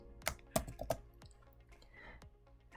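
Keystrokes on a computer keyboard while entering an Excel formula, a few sharp clicks close together near the start, then quiet typing-room background.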